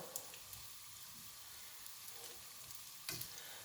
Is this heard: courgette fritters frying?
yes